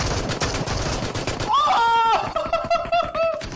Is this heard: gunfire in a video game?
yes